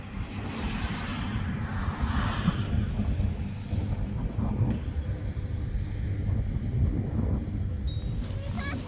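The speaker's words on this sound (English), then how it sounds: "A boat ride in the Glacier Lagoon" A tour boat's engine drones steadily over an Icelandic glacier lagoon, with wind buffeting the microphone throughout.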